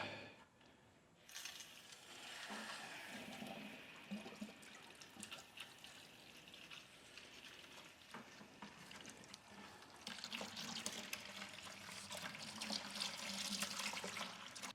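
Water rushes through a newly opened shower mixing valve supplied at about 45 PSI during a tile shower install. A faint, steady hiss with a few mechanical clicks grows louder toward the end, with no talking.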